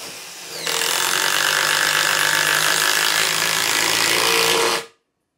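A DeWalt brushed-motor power tool whirs up sharply and runs at a loud, steady high pitch for about four seconds before cutting off abruptly, close by.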